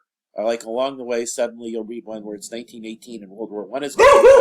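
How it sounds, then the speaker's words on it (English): A pet dog named Sherlock lets out a sudden loud bark close by at the very end, right after someone talks steadily. "keep my dog Sherlock from barking on the videos."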